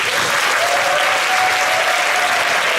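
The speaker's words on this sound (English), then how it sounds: "let's have a big round of applause for Will." Loud, steady applause from a conference audience fills the whole stretch without a break, a dense wash of clapping from a large crowd with no voices over it.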